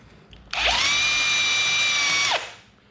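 A power drill countersinks a small hole in a scavenger part, whirring loudly and steadily for about two seconds with a sharp spin-up and wind-down, alone with no talk.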